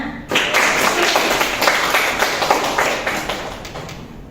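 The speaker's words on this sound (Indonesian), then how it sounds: "tepuk tangan dulu untuk teman-teman yang sudah berani menyampaikan pendapatnya" Students in a classroom clap together at a guidance lesson, a dense burst of applause that starts abruptly, stays lively for several seconds and gradually thins out.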